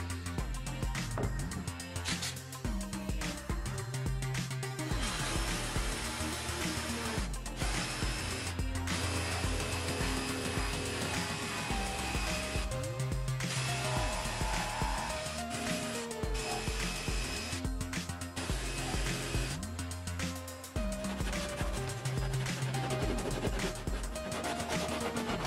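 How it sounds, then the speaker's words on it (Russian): Jigsaw cutting wood to round off corners, a continuous loud buzzing rasp that stops and restarts several times between short pauses. "чтобы потом лобзиком скруглить"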